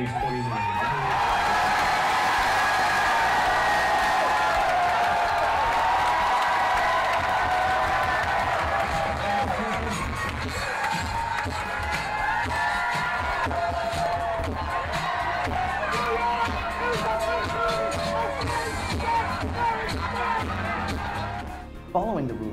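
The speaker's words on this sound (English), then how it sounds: "crowds of gay people spilled onto New York's Christopher Street outside the Stonewall Inn to celebrate this historic victory for gay rights" A dense crowd celebrates on Christopher Street outside New York's Stonewall Inn after the gay marriage ruling, its cheering, whooping and scattered clapping holding loud and steady throughout.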